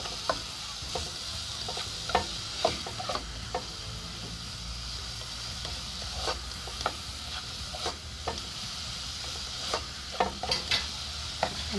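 Sofrito for pizza sauce sizzles in a pan while a spoon stirs it, a continuous frying hiss broken by frequent light scraping taps at an uneven rhythm.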